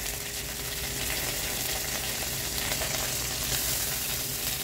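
Cumin, curry leaves and ginger sauté in hot oil, giving a dense, continuous crackling sizzle at close range that stays steady throughout, with no voices.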